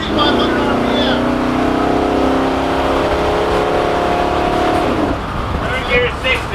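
A truck engine revs steadily higher while accelerating in gear, a loud sustained climbing drone that cuts off abruptly near the end as it shifts, with a voice talking over it.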